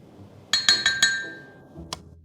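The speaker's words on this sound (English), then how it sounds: "Now I'll stir and you'll tell me when to stop." A spoon stirring diluted paint wash in a glass jar: four sharp, ringing clinks in quick succession, then a fifth clink after a short pause, close and clear.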